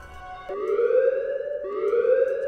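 An alarm blares in the horror video game Apeirophobia as a siren-like wail that swoops upward twice in a row, loud and continuous with no voices over it.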